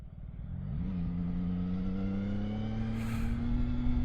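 A four-cylinder motorcycle engine revs up from idle and holds a steady, smooth drone close by, its pitch rising in the first second then staying level.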